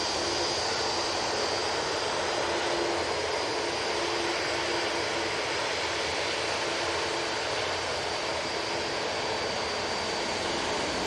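Steady, broad jet roar of a Jet2 Airbus A321neo departing Manchester Airport, holding a constant loud level throughout with no voices.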